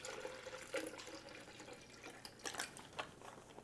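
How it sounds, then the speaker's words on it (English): About a cup of beef broth is poured over beef while birria is being made, giving a soft, continuous liquid pour with light splashing. It is fairly quiet and there is no talking. "And then we're going to add about a cup or so of beef broth"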